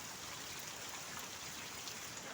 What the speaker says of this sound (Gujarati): અત્યારે વરસાદ એકદમનો મિત્રો ચાલુ છે